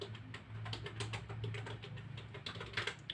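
Steady keystrokes on a computer keyboard as a quiz title is typed, a rapid irregular run of close, light clicks over a low hum, with no voices.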